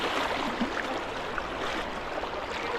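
Fast-flowing river current rushes in a steady, dense wash of water noise, fairly distant and constant, with no voices.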